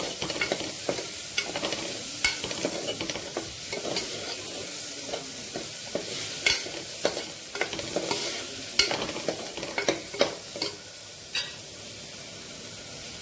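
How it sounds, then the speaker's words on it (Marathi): Peas stirred and sautéed in a hot pan for dalia khichdi, a steady close sizzle and frying hiss with repeated sharp scraping clicks of a spoon against the pan, no talking. "हे पण परतून घेऊ."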